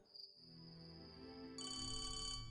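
A mobile phone ringtone plays as a steady electronic melody, fairly quiet and continuous, with a brighter tonal section joining partway through and no talk over it.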